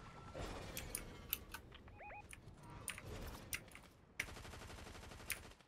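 Rapid bursts of gunfire rattle through a shooter video game, sharp repeated shots in quick volleys with brief gaps, plus a few short metallic clicks and a steady run of automatic fire near the end.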